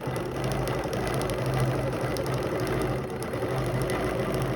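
Sewing machine stitching ruler-guided curves on a double drop quilt, a steady loud mechanical whir with rapid needle chatter running continuously and close, no voices.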